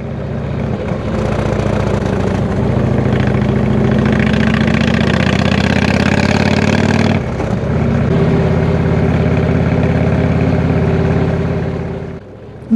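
A motorcycle engine drones steadily and loudly as it rides a winding road through a remote valley, with a brief dip in pitch midway, as if shifting gear.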